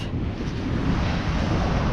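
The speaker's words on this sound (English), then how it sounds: "there's some big waves today" Large ocean waves surge and wash in a steady, loud roar, with gusting wind buffeting the microphone throughout and no voices.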